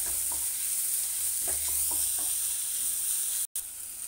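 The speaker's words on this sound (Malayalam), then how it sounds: "ഇനി അടുത്തതായിട്ട് നമ്മൾ അതിനകത്ത് വെളുത്തുള്ളി, ഇഞ്ചി ചതച്ച് വെച്ചത് ഇട്ട് കൊടുക്കുക" Crushed garlic and ginger frying with onions in a kadai for Malabar-style chicken, stirred with a spoon: steady close sizzle with a few scraping stirs, no talk, a brief dropout near the end.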